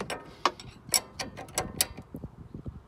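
A ratchet tightens a suspension bolt on a third-generation Toyota Tacoma, giving a series of close, crisp clicks in short uneven bursts, some sharper than others.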